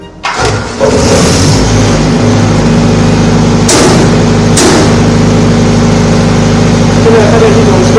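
A diesel generator set running steadily after a simulated mains power cut, with a loud constant engine drone and hum and two sharp clunks from the automatic transfer switch along the way.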